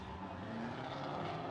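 A Cadillac ATS-V drift car on its Formula Drift qualifying run in Orlando gives a brief, steady engine roar, faint and somewhat distant.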